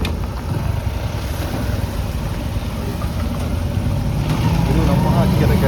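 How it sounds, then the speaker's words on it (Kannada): A motor vehicle's engine rumbles steadily on a narrow, muddy rural road near Hanuman Gundi Falls, growing slightly louder toward the end as it comes closer. "ಈಗ ನೋಡಿ, ಒಂದು ಗಾಡಿ ಬರ್ತಿದೆ ಮುಂದ್ಗಡೆ."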